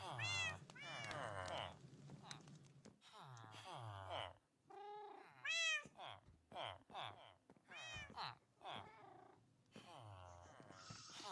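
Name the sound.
cat meowing in a video game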